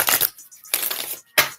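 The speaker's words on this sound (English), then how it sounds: "One more shuffle." Oracle cards being shuffled in three quick bursts of crisp, riffling card noise, each under half a second, separated by short silences.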